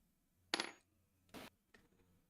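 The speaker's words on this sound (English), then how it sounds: "Let's take the metal dice, the big metal dice. Let's roll it." A big metal die in the Tabletop Simulator game drops with a bright metallic clatter, then lands twice more in quick separate knocks, close and clear against near silence.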